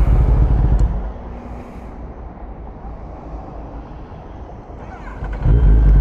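Kawasaki ZX10R sportbike engine misbehaving on the road, its ABS also throwing an error: a loud low rumble at the start drops to a quieter uneven idle, then surges loud again at the end.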